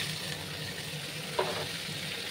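Papaya and paneer pieces sizzle in a hot frying pan, a steady, close hiss of frying that runs throughout, with one small clink partway through.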